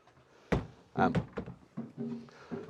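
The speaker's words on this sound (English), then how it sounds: "So this is a new door which just closes like that" A newly fitted door on a tiny house built on a truck swings shut with a solid thunk, followed by a few softer knocks and rattles as it settles, heard close.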